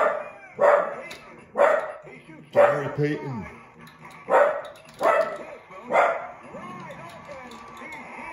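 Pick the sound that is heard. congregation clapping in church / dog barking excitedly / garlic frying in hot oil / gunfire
dog barking excitedly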